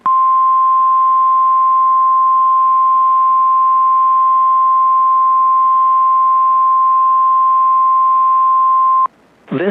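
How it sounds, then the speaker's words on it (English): A NOAA Weather Radio warning alert tone sounds during a weekly test, one loud, steady, unbroken pure tone held for about nine seconds before it cuts off abruptly. "This is a weekly test of the NOAA Weather Radio warning device."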